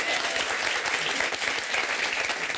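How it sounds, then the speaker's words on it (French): A French television talk-show studio audience breaks into steady applause, a dense, even wash of clapping that fills the whole moment without any talking over it. "Je vous demande d'applaudir Isia."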